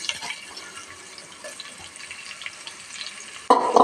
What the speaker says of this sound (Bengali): যেই মুরগিটা আমি যে কড়াইতে ভেজেছি সেখানেই কিন্তু আমার আবার পেঁয়াজটা দিয়ে দিচ্ছি